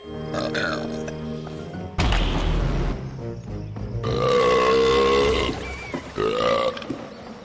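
Two characters, Chonker and Ty, trade loud, deep burps back and forth in a standoff, each belch long and rumbling, alternating in quick succession with vocal grunts and tonal voice sounds woven between them.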